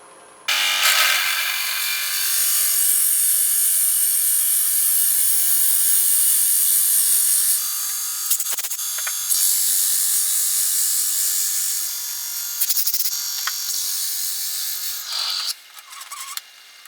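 A power drill engraves a wooden flower, a loud continuous high whine that runs almost unbroken, with brief dips and pauses where the bit lifts off the wood.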